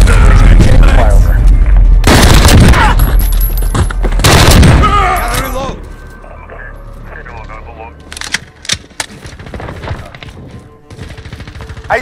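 Heavy gunfire and booming explosions fill a Modern Warfare beta battle, with loud dense bursts early, then quieter scattered shots and sharp cracks as voices come and go.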